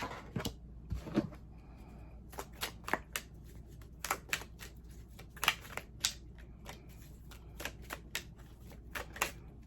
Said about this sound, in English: I'm going to keep shuffling until something comes out.